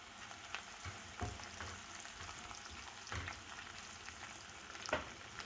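Chopped onions and green chillies fry in oil with cashews for mint rice, giving a soft, steady sizzle with a few faint stirring knocks.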